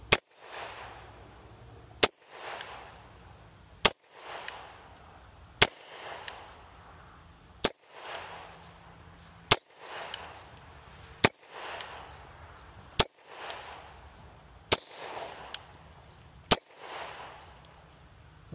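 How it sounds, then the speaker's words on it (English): A Taurus TH10 10mm pistol fires a full magazine outdoors, about ten loud, sharp reports spaced roughly every two seconds in a steady rhythm, each followed by a brief echoing decay, with no talking. "there's a mag through it"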